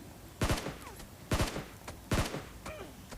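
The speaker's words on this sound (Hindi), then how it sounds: "और मैं यहाँ पे देने लग गया इसका हल्का टैप टैप फायर" Three separate bursts of tap-fired gunshots ring out in the BGMI mobile battle royale game, each a sharp cracking volley spaced about a second apart, loud and close with no talk.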